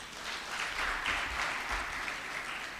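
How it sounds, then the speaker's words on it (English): An audience at the MUUNI Innovation Expo in Lilongwe claps in a dense, even round of applause heard from within the hall, holding steady without a break for under three seconds. "Another round of applause."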